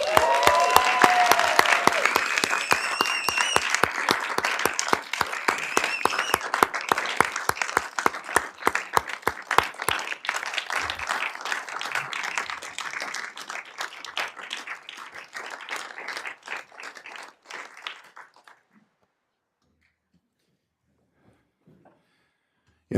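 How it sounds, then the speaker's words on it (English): Applause at a city council meeting in Loma Linda, a room full of people clapping steadily and loudly, thinning out gradually before stopping, followed by near silence. "Can we give them all a round of applause, please?"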